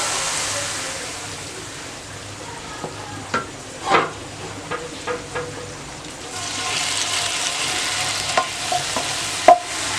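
Beef nihari stirred and mixed in a pot over a low flame, with scattered scraping and clinking knocks of the spoon against the pot over a soft simmering sizzle, the mixing growing busier toward the end.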